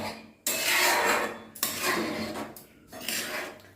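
A karahi wok being washed at the stove: three loud bursts of metallic scrubbing and rasping against the pan, each lasting about a second, with sharp short gaps between them, close up and without talking.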